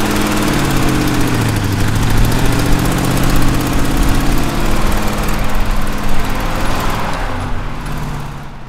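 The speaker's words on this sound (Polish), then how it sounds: "Tak, to jest silnik V8, pojemność 6 litrów" A 6-litre V8 military truck engine idles loudly and close by, a dense, throbbing rumble with an uneven lopey pulse that holds steady for several seconds.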